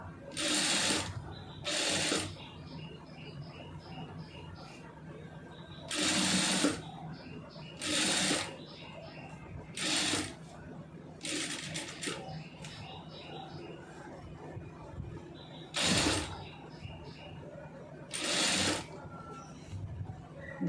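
Sewing machine stitching a neck design, short bursts of rapid mechanical whirring at an unhurried pace, close and fairly quiet, with a person talking faintly between runs.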